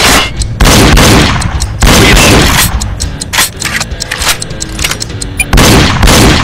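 Gunshots in the Wii shooting game Reload sound as a loud, busy run of rapid shots and booming impacts with short gaps, close and punchy, while a game announcer's voice calls out between volleys.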